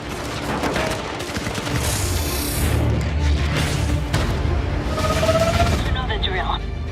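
Sustained bursts of rapid gunfire and booming blasts crackle almost nonstop, with faint voices underneath.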